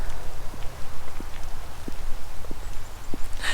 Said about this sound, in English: It sounds like it's raining because of all of the snow melting off the trees.